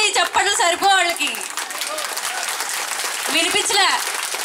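Applause after a Kuchipudi dance performance at home: a few seconds of dense clapping, with voices talking over it at the start and end.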